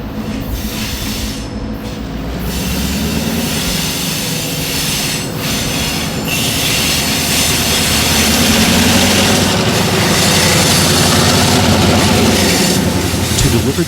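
A freight train of covered hoppers and boxcars rolls through Rockford, Illinois, its steady rumble and clatter of railcar wheels building slightly louder over time, with faint wheel squeal, heard close and continuous without talk.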